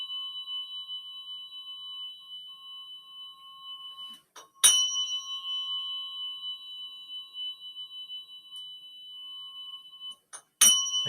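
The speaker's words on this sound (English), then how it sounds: "Again, I'm moving this tuning fork into the field." A handheld tuning fork rings with a steady, pure sustained tone through the whole stretch, broken by two sharp metallic strikes that re-excite it partway through and near the end; quiet and close, with no talk.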